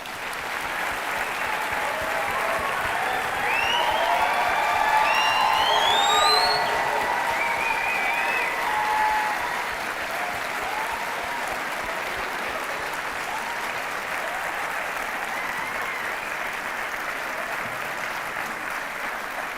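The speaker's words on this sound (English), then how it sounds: "Please can I ask that you join me in a round of applause." Sustained applause for graduates at a university winter graduation ceremony, a broad wash of clapping from a large audience that swells briefly then holds steady, with faint cheering or whistles near the start.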